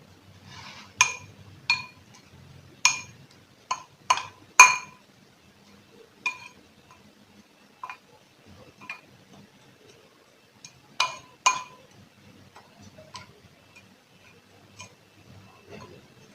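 A metal spoon clinks repeatedly against a bowl while stirring a dry spice blend with saffron, sharp close taps in irregular bursts with quiet gaps between.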